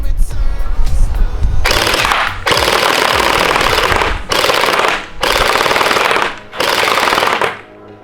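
An HE ACR gel blaster running on an 11.1 volt battery fires full-auto bursts, emptying a magazine in four or five long, loud, steady buzzing strings separated by short pauses, with no talking over them.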